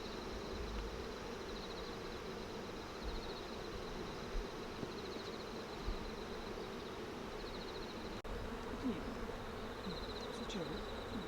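Honeybees drone steadily at an opened beehive kept by a buckwheat-honey beekeeper, a dense, continuous close buzz with the high whine of individual bees passing, and faint voices only barely present underneath.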